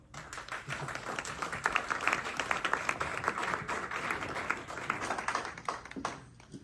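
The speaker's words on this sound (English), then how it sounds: "Round of applause." An audience at a Portland city council candidate event breaks into steady applause that fills the room at close range, holding level for several seconds before tapering off toward the end.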